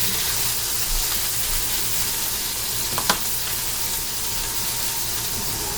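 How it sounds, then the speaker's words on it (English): Mushrooms frying in a skillet over medium-high heat, a dense, constant loud sizzle heard up close without talk, with a short scrape of a utensil partway through. "We're going to go with a medium-high heat on our back skillet there for our mushrooms."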